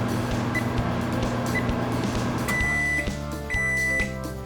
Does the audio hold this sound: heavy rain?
no